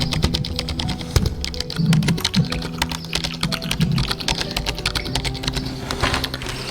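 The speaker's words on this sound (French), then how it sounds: "Le bruit du clavier." Rapid, steady clatter of keys on a computer keyboard, close and continuous, with a low hum underneath.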